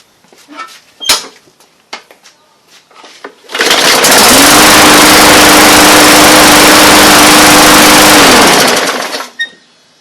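A rebuilt lawn mower engine is pulled and fires up after a few clicks and rattles, then runs loud and steady for about five seconds before cutting off and winding down.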